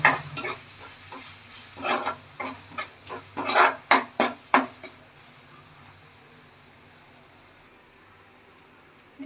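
Chili powder being stirred into oil in a pan for a fish curry: a series of soft scraping and clinking strokes of a spoon, quick and rhythmic at first, then fading to a quiet, faint hiss.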